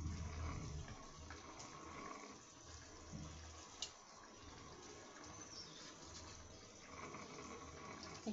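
Salted fish rinsed under running water: quiet, continuous splashing and trickling, fairly close, with small irregular splashes and no talk.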